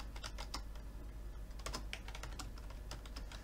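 Fast, steady clicking of keys as someone touch types on a computer keyboard, close and clear over a low background hum, with no talking.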